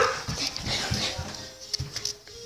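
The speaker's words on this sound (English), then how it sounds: "Sorry, that's my dog." A dog whimpers and yips in short high-pitched bursts, several whines in irregular rhythm, close by and moderately loud over a faint background.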